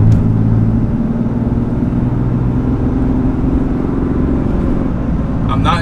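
A RAM HD high-output Cummins diesel pickup with an Aisin transmission, unloaded, accelerates at wide open throttle from about 50: a loud, steady low engine roar and rumble that holds throughout, heard from inside the cab.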